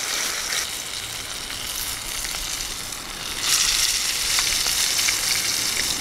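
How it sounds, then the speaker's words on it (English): Beef fat fries in a cooker over a fire with a steady, close sizzle and scattered crackles and pops. It grows louder about halfway through. "I've got a little bit of beef fat in there, I'm cooking it in."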